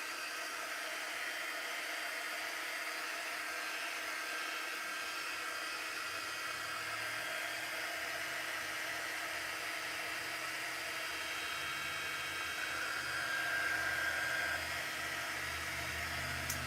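A hair dryer blowing on a craft project during a late-night crafting session, giving a steady, even airy hiss that runs unbroken and fairly soft for the whole stretch, with no voices over it.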